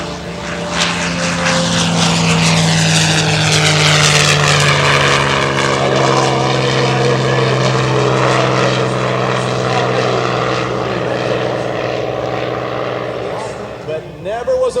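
A P-51 propeller warplane flies past at a regional air show, its loud piston engine droning steadily and shifting pitch as it passes overhead, with an announcer talking over it.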